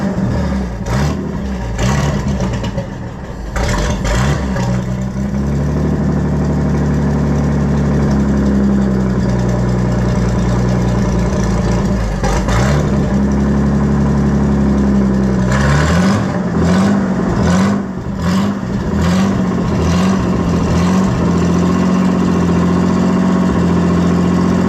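A loud old Co-op tractor engine runs at a rough idle, its carburetor in need of a rebuild, with a steady low chug broken by a few uneven surges and revs, close and continuous without voices.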